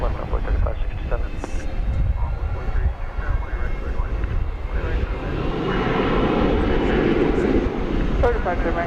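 An airliner takes off from runway 18 left at DFW airport, its broadband engine roar building in strength toward the end, with radio chatter from air traffic control running over it.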